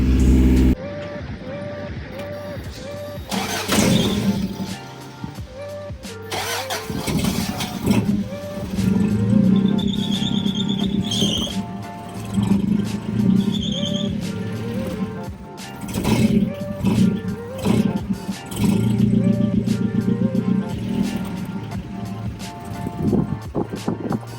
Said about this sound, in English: I accidentally dropped the idle too low after I broke the cam in.